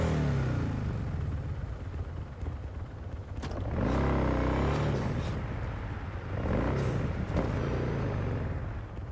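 A car engine in the video game Cyberpunk 2077 drones steadily and swells into loud revving several times as the vehicle drives, with no talking over it.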